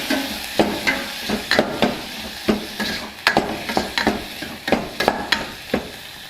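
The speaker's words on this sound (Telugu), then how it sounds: "ఇప్పుడు ఒకసారి మొత్తాన్ని బాగా కలుపుకుందాం." A spoon stirs a masala sweet corn mixture in a pan, making a steady run of close, crisp scraping clicks over a light sizzle, with no talking.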